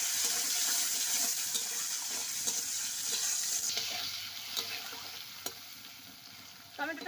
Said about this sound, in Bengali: টমেটো কুচিটা দিয়ে লাল লাল করে নেব